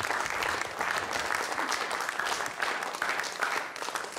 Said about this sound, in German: machen Sie einen großen Applaus für Henrik Santo